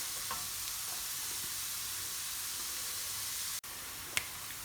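Vegetables browning in leftover meat oil and juices in a pan for shepherd's pie, giving a steady, even sizzling hiss throughout with a brief dropout and a faint click near the end.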